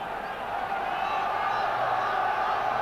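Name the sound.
Dutch football crowd in stadium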